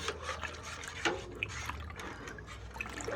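A natural dye vat made from Ceriops tagal is stirred along the bottom, producing soft sloshing, dripping and swirling liquid sounds at close range over a few seconds.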